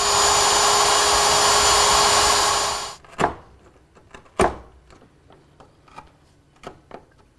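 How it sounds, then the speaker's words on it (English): A router with a 3/8 inch straight bit cutting mortises freehand in walnut whines loud and steady for about three seconds, then cuts off, leaving a couple of sharp knocks and faint taps. "I'll remove the material with a 3/8 inch straight cutting bit, freehand"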